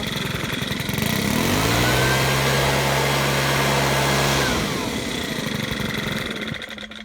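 A two-stroke garden power tool engine runs close by, rising to a higher steady buzz for a few seconds before settling back to a rougher idle.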